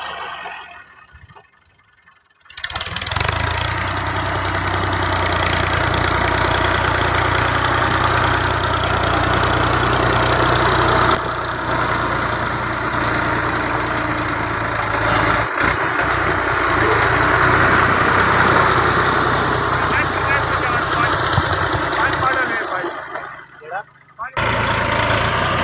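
A Millat-built Massey 240 tractor from 2005 idling, its engine starting after a quiet moment into a loud, steady, close-up chug that holds for about twenty seconds, with voices heard over it, before briefly dropping away near the end.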